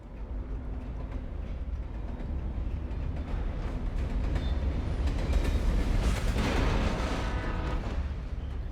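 A train rumbles past in the video game Alan Wake Remastered, a loud continuous heavy roar with rattling that swells to a peak midway and then stays strong.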